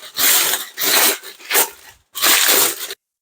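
Aluminium foil laid over a pot of chicken mandi is pierced with a wooden stick or knife, giving four loud, close crinkling and tearing bursts with short gaps between them.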